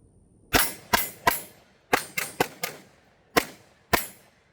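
Nine loud, sharp gunshots from a Springfield Armory XDM10 10mm pistol fired at close range, in an uneven rhythm of quick pairs and triples separated by short pauses, each crack ringing briefly.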